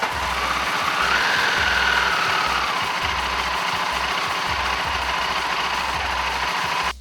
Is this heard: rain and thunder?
no